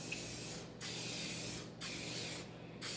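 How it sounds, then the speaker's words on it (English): Canola oil cooking spray greases a pie plate in three steady bursts, each hissing for nearly a second with short pauses between, close and alone. "I'm just using a canola oil cooking spray."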